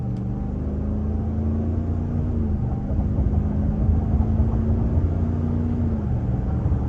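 A 2024 Ram 1500 Limited pickup with an eTorque mild-hybrid system accelerates at quarter throttle, a steady low engine drone and road rumble heard from inside the cabin, with a faint tone rising slightly midway and no talking.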